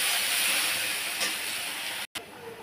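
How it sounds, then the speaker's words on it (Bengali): Chopped onions dropped into hot oil for begun er jhal, a spicy eggplant dish, sizzling and hissing in a steady loud fry that breaks off briefly near the end, with no talk. "ওই তেলের মধ্যেই আমি এবার এই পেঁয়াজ কুচিটা ছেড়ে দেব"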